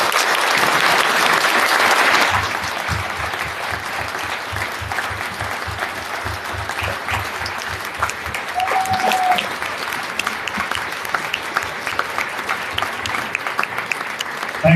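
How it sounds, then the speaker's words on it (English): Sustained applause from a crowd at a municipal election all-candidates meeting, loud and dense at first, then settling into steady clapping that continues for the whole stretch with no talking. "so a round of applause, please."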